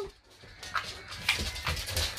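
Dogs whimpering and making soft yips indoors at home, short high-pitched whines repeating in uneven bursts over a low room hum, fairly close.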